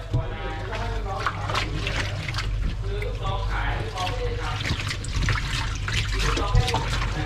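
Running water rinses film residue off a brass nameplate, a continuous close splashing and trickling under steady talk.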